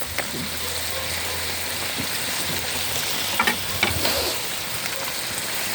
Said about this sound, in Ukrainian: на цьому етапі ми додаємо ще вершкове масло